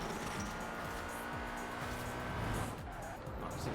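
A tuned BMW drifting with the handbrake pulled in Forza Horizon 4: a loud continuous engine roar with shifting pitch, sliding sideways under a dense, unbroken drone, with no talking.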